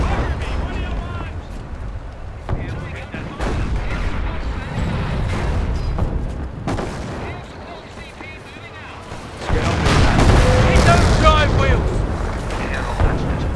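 A howitzer fires repeatedly in Company of Heroes, World War II Operation Bluecoat, with deep booms and rumbling blasts building to a louder barrage near the end while soldiers shout over the battle.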